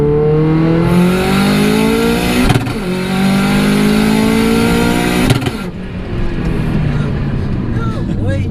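Tuned 544bhp Audi S3 engine revving hard through gears, with two sharp flat-shift breaks as revs drop and climb again, loud and close from inside the car.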